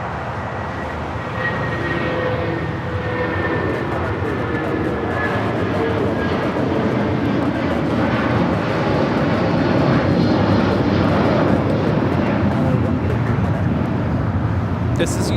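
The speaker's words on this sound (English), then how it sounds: "United Airlines 1981 taking off to Newark on the 757-200 in the Star Alliance livery." A United Airlines Boeing 757-200 in Star Alliance livery takes off from Los Angeles bound for Newark, its engines building a loud, sustained roar close by, with some talk over it.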